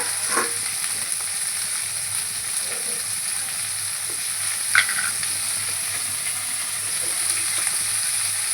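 Onion and tomato sizzle in a pan, a continuous bright hiss of frying with scattered scraping stirs and one sharper clink partway through, close and alone without talk.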